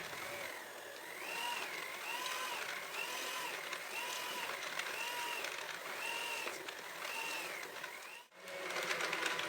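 An electric stand mixer kneads soft donut dough with butter and salt, a steady motor whir with a repeating rhythmic cycle roughly every second, continuous and close, with a brief dip near the end.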